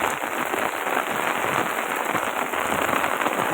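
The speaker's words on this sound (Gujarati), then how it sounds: "જોઈ શકો છો તમે, અત્યારના ફૂલ વરસાદ અત્યારના ચાલુ જ છે" Heavy rain pouring down in Rajula, a dense, steady hiss of drops on surfaces that stays loud and constant throughout, with no voices.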